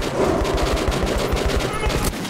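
Rapid pistol gunfire in Metro 2033 Redux, a run of repeated shots fired in quick rhythm, loud and close over a busy game soundscape.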